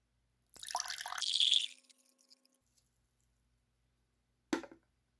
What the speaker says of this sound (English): Let's pour it away from the cards right here.